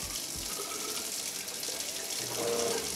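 A faucet runs into a basement utility sink, a steady hissing splash of water that continues without a break, heard close and alone with no talk.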